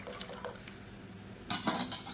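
Dissolved dal (lentils mixed in water) poured into a pan of rasam: a short, bright splashing pour near the end, after a quiet stretch with a few soft clinks of utensils.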